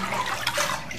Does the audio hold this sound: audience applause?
no